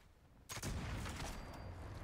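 A black powder rifle fires in a video game, one loud sudden blast followed by a long booming, rumbling tail that fills the rest of the moment.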